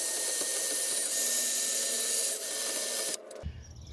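A power-driven wire wheel grinds steadily against a rusty gooseneck hitch ball, giving a loud, continuous abrasive whir for about three seconds before cutting off abruptly.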